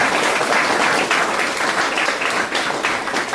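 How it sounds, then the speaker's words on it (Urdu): An audience at an Education Day celebration gives loud, dense applause for a child's Quran recitation, steady clapping filling the whole short stretch. "اس بچے کے لیے پھر سے بہت زوردار تالیاں ہو جائیں"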